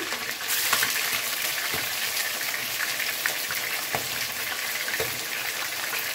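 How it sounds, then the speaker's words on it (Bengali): Chicken seasoned with salt, lemon and chili powder fries steadily in hot oil for chicken biryani, a continuous close sizzle and crackle with occasional sharper pops and stirring sounds, no voices. "তাই চিকেনগুলোকে এখন লবণ, লেবু আর মরিচের গুঁড়া দিয়ে ভেজে নিচ্ছি।"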